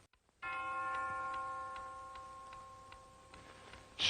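A clock bell in an audio drama strikes once: a single bright, ringing stroke that sustains and slowly fades over several seconds, with a faint tick in the background and quiet before the strike.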